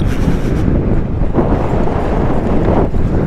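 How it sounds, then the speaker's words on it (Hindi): Strong wind roars steadily across the microphone while a Yamaha Aerox scooter is ridden over a sandy, rough track on the Umling La ride in Ladakh, loud and continuous with no talking. "तेज हवा चल रहा है"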